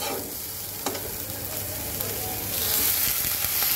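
Water lily stems tossed into a pan of frying shrimp give a steady, close sizzle with occasional stirring scrapes, growing slightly louder toward the end.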